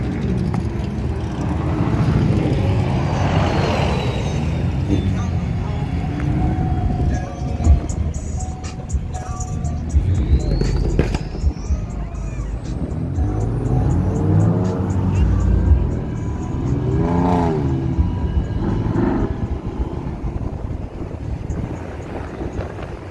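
A Ford Mustang drives past at a Cars and Coffee meet, its engine rumbling up from a distance and swelling as it nears, amid other passing traffic, wind buffeting and people talking nearby throughout.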